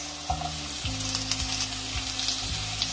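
Chopped onions fry with potatoes in a pan of oil for a Bengali-style bhetki fish curry, giving a steady close sizzle with a few soft stirring scrapes and no talking.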